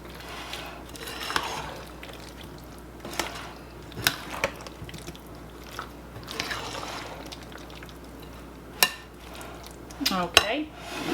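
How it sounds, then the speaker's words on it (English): Strawberries being stirred into a coating mixture for a strawberry pie, giving scattered soft wet clinks and scrapes of a utensil against the bowl, with a few sharper taps and light sloshing. "So just stir, stir, stir until you get them all coated."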